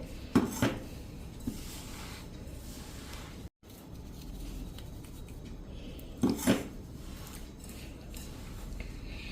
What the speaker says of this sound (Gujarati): તો આ રીતે જો આપણે સાકરને મિક્સ કરી લીધી છે